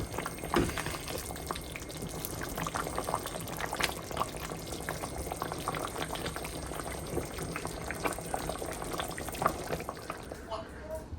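Beef curry with ash gourd simmers in a pot, a continuous soft bubbling and gentle boiling hiss that stays steady throughout with small pops, fairly quiet and close.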